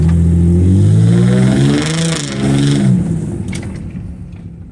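A 2005 Infiniti G35 engine revs while the car moves off, its rising and falling pitch sweeping loudly and close for several seconds before easing to a lower drone.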